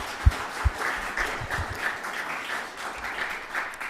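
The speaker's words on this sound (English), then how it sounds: "Can we have one more round of applause?" An audience gives a round of applause after a talk, a steady crowd of clapping with a couple of loud, close claps near the start, continuing evenly throughout.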